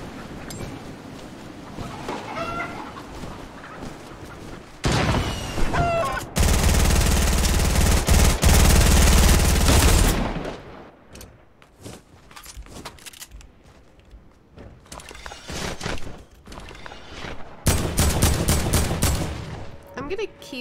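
SMG gunfire in the video game Fortnite, loud sustained bursts of rapid automatic fire, the longest a dense volley of several seconds, with shorter bursts before and after amid other game sounds.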